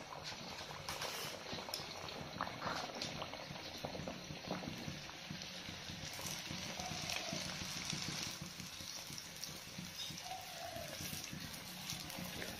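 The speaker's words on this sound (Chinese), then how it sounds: "开始炸了" Youtiao dough sizzles and bubbles in hot oil in a home kitchen, a soft continuous crackle with scattered pops, fairly quiet and close, no talking.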